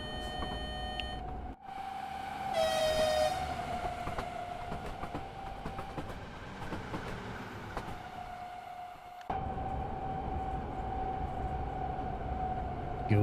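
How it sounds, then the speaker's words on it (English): A train in the Train Sim World 6 game on the Liberec–Stará Paka line sounds its horn in long sustained tones, first one blast and then a longer one. The horn plays over the rolling rumble of the train, with no speech. "Apparently these guys blow the horn a lot"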